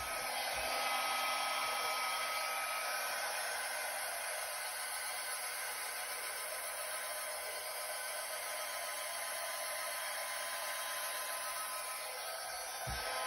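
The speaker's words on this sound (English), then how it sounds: "now I'm going to use my blow dryer, and on the low cool setting" A hair dryer blows steadily on a low cool setting over a pearl fluid art paint pour, an even broadband whoosh that stays constant throughout with no other sounds.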